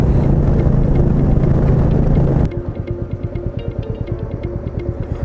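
A Royal Enfield Meteor 350 motorcycle on the move: a loud, broad wind-buffeted engine roar gives way abruptly to a close, steady, rhythmic single-cylinder thump.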